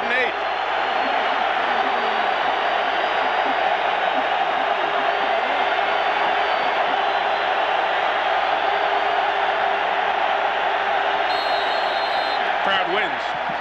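Stadium crowd at a 2000 college football game between Virginia Tech and West Virginia, roaring steadily and loudly on third down, a dense wall of sustained noise with no break.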